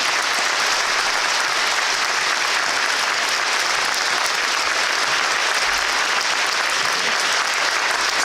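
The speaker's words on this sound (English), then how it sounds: "So how about a round of applause for your superintendent?" An audience gives sustained, dense applause for a school district superintendent, a continuous roar of many hands clapping at an even level throughout.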